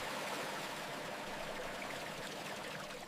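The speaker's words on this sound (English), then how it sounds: "Clear, fresh groundwater flows for the first time." Clear fresh groundwater gushing from a newly drilled village tube well, a steady, dense rushing flow that holds at an even level throughout.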